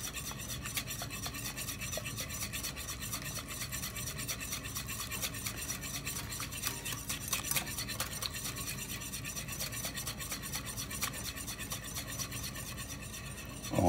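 Oil being whisked into a forming emulsion in a kitchen lab, with rapid, even strokes scraping and clicking against the bowl and continuing steadily throughout, alone and close.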